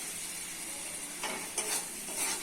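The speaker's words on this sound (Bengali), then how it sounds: "মশলা কষা হয়ে গেছে দিয়ে দিচ্ছি আলু ভাজি" Potatoes frying in spiced masala, a soft steady sizzle joined by a few scraping stirs of a spoon against the pan near the end, quiet and close.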